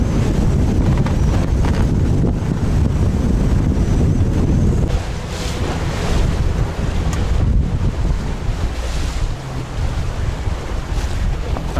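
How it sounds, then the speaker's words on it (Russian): Powerful wind of about 15 m/s slams into the microphone by the water while out jig fishing, a loud, constant roaring buffet that dips briefly midway and then surges again, with no speech. "Вот это ветер!"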